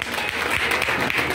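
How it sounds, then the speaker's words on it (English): Audience applause for pre-primary school teachers at a school event: a short, dense burst of steady clapping from a crowd, fairly loud throughout. "First of all, give them a big applause,"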